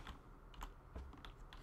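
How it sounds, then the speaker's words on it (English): Quiet clicking of a non-mechanical computer keyboard, several soft irregular keystrokes over a low room hum, close and faint with no talking. "Hopefully there's not a lot of loud clicking noises and everything from my keyboard"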